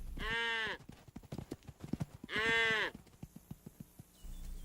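Horses pulling carts at high speed in a show clip-clop with quick, uneven hoofbeats, broken by two loud whinnies, close by and with no talk.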